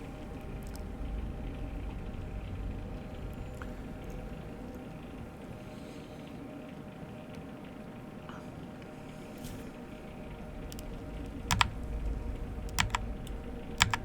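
Typing on a computer keyboard that once had soda spilled into it, a quiet steady patter of key clicks close by, with a few sharper, louder taps near the end and no talk.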